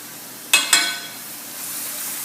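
Onion sautéing in a pan for pumpkin sausage pasta, two sharp metallic clinks of a utensil against the pan over a soft steady sizzle that swells slightly toward the end.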